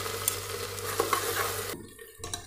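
Chopped onion with crushed garlic, ginger and green chili fry in a pan for egg biryani, making a steady sizzle with some stirring that drops to a quieter crackle near the end.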